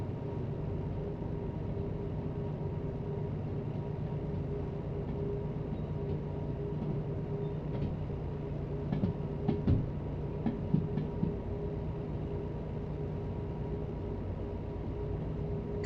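Train rolling along rails in Derail Valley, a steady low rumble and hum with a faint tonal drone, joined midway by a cluster of sharp clicks and clacks from the wheels before settling back into the even running noise.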